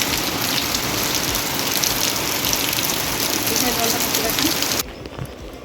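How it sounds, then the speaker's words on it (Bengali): Heavy afternoon monsoon rain pours down in a dense, steady hiss close at hand, then drops to a much quieter patter for the last second. "বৃষ্টিটা দেখা যাক।"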